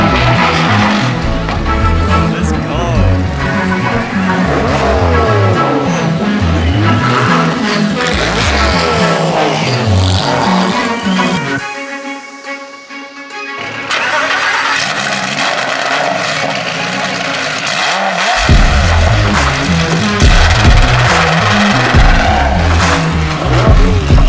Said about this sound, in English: we just got Shahan Chandrasoma in his Super Trofeo Evo 2